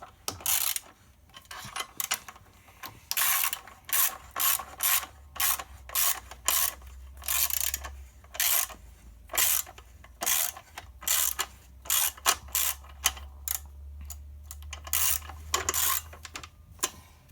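A hand ratchet clicks in quick bursts, tightening the clutch bolts during an SAE 14 clutch install on a dually truck. Repeated bursts of sharp metallic pawl ticks are separated by short pauses, close up, with a low mechanical hum underneath and no speech.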